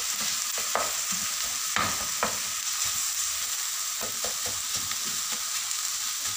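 Homemade diet kofta simmering in a pan of tomato sauce seasoned with salt and cumin, giving a steady soft sizzle with occasional stirring clicks and scrapes of a utensil, close and moderately quiet, with no talking.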